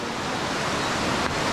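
A swollen river rushes below the listener in a loud, steady broadband roar of fast water, with no voices.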